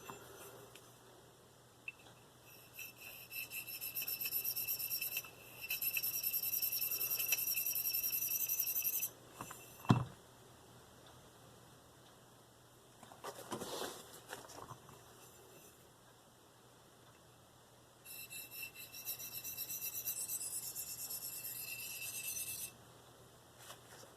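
Marttiini Lynx knife being sharpened with light pressure: two long stretches of fine, hissing, scraping strokes, fairly close and soft, separated by quieter pauses and a single brief knock.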